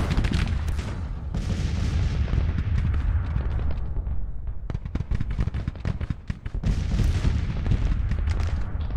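Civil War battle in Grand Tactician: dense, continuous gunfire and artillery crackle, with many sharp shots piling into a steady roar and a brief lull near the middle, loud and unbroken, no talking.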